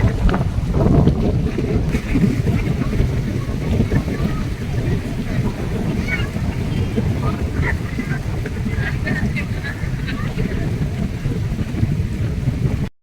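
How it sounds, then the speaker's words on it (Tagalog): Strong seaside wind buffets the microphone with a loud, continuous low roar and rumbling gusts, dense and unbroken for about thirteen seconds, with faint crowd activity underneath. "Sobrang hangin dito guys"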